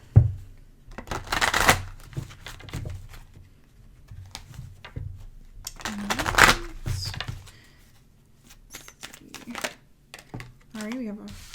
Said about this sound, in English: I'm going to pull a couple oracle cards